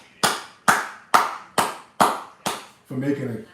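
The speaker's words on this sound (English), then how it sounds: "Let's clap it up for Donald Trump" Six sharp, evenly spaced claps ring out close and dry, each with a quick decay, in celebration of Donald Trump's comeback victory, followed by a voice speaking at the end.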